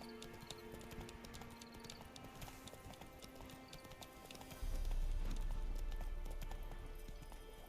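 Roach the horse gallops in The Witcher 3, a steady fast clip-clop of hooves running throughout, joined partway by a deep low rumble.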